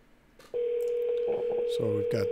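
A telephone placing a call: a brief click, then a steady dial tone with short dialing beeps over it, while a person talks quietly in the background.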